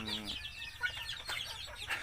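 Brooding hens cluck softly at a nest in short, scattered bursts amid faint farmyard background noise.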